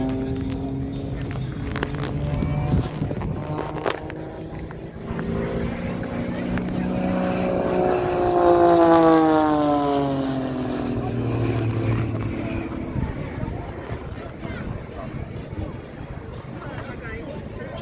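A propeller aerobatic airplane performs a stall turn at the Swartkops airshow in South Africa, its engine droning steadily with a rising and falling pitch sweep as it pulls through the maneuver, heard under continuous commentary.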